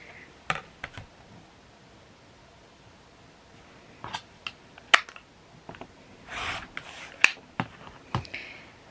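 Scissors snipping through quilt fabric along a drawn line, a scattered series of crisp close clicks and short cuts in small bursts with pauses between, quiet background and no talk.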